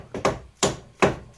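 Metal hammer blows on a seized suspension nut on a 2005 Vauxhall Corsa C, with three sharp, evenly spaced close strikes and a fourth just beginning.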